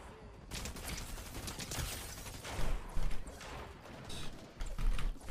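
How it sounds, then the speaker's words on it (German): A teammate's gunfire in an arena shooter game, with rapid sharp shots and clattering mechanical noise coming in uneven bursts and growing louder toward the end. "Das ist ein Teammate, was? Wieso schießt er denn?"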